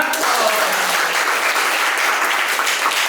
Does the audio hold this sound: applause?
yes